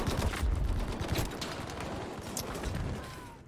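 Rapid bursts of gunfire in Battlefield V rattle close by, loud at first and thinning into scattered cracks and distant shots, with a busy battlefield din underneath.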